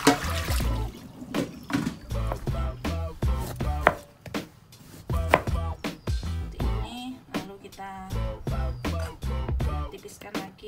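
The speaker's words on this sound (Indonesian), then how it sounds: "Tipiskan lagi ya, kita potong kecil gitu ya." A knife chops salty ingredients into small pieces on a board, a run of sharp, close taps with uneven rhythm and short pauses, some water trickling in between.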